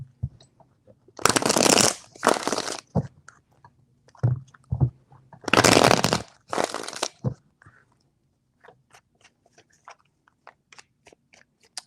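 Tarot cards being shuffled in several separate bursts, each a dense papery riffle lasting under a second, close and fairly loud, followed by softer scattered card taps and flicks.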